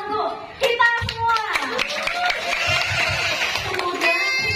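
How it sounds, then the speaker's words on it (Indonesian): Clapping breaks out at a birthday celebration gathering, mixed with lively voices and chatter that carry on throughout the scene. "Tepuk tangan untuk kita semua."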